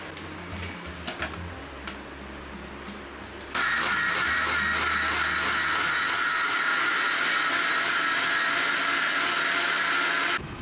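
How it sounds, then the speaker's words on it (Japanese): After a few quiet seconds with faint clicks, an electric blender making coconut milk in an office in Kerala, India, kicks on abruptly and whirs loudly and steadily at close range until the end. "ミキサー持ってオフィスでココナッツミルク作ってるなんて。"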